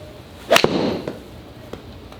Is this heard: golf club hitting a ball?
yes